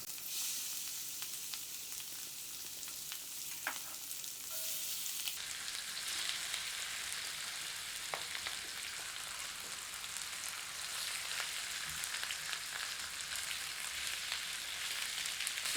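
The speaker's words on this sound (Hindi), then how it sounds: "अब मैरिनेटेड चिकन को इस पैन में अच्छी तरह से भूनते हैं।" Marinated chicken pieces fry in hot mustard oil in an iron pan, giving a steady, close sizzle that swells louder midway, with occasional faint stirring sounds and no talking.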